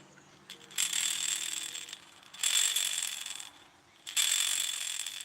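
A burrito fishing rig rattles while being handled out of the water, giving three close, ratchety bursts of clicking, each lasting about a second or more, with quieter pauses between them.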